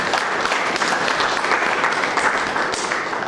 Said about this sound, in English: So big applause for him.